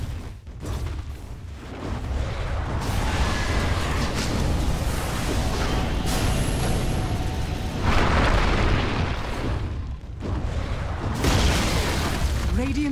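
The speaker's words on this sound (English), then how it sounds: "Radiant's middle tower has fallen." Heavy booming blasts and rumbling crashes as a tower is attacked and destroyed in the game Dota 2, dense and continuous with loud surges, under a busy battle mix.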